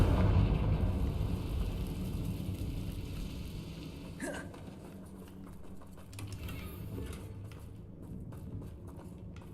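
Confringo fire spell bursting in Hogwarts Legacy, a rumbling blast fading out, followed by a sharp crackling impact and scattered debris-like clatter amid game ambience.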